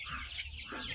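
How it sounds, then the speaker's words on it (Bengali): Egyptian Fayoumi chickens cluck steadily at close range, several birds overlapping in a continuous, busy chatter with no pause through the short stretch. "এই যে আমার মুরগি।"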